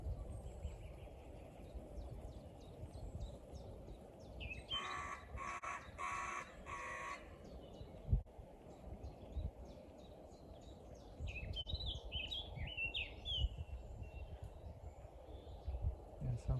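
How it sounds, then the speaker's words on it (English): Two blackcaps sing in an outdoor dawn chorus among other birds, warbling phrases from more than one songbird, one nearer and clearer, over a low background rumble. "it sounds like there are two blackcaps, one closer in front of us."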